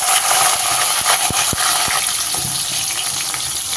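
Shallots hit hot oil already crackling with mustard and fennel seeds for a drumstick prawn kulambu, making a loud, steady sizzle with a few sharp pops near the start.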